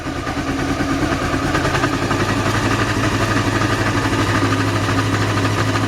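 A Honda CB500 motorcycle engine runs steadily just after starting, a loud, close, even idle with a rapid low exhaust pulse that holds constant throughout.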